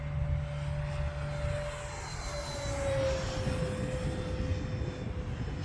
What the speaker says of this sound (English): Let's do a high-speed pass from left to right here.